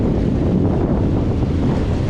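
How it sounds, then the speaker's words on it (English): Ocean waves surging around someone standing in the water while metal detecting, a loud continuous wash of rushing surf and buffeting wind noise close to the microphone, with no voices. "I'm in the water and these waves are kicking."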